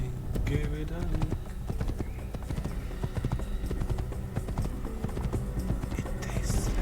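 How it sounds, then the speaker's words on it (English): Horse hooves clip-clop in a steady, busy rhythm while riding in the Assassin's Creed video game, loud and close, with game sounds mixed in. "Boss, you got my horse. My horse is amazing."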